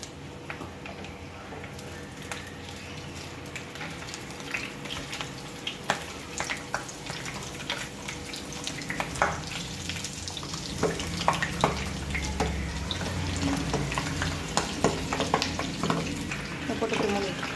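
Fish sizzles and crackles in a pan on a banana leaf, a steady frying hiss with scattered sharp pops growing busier toward the end, close and alone.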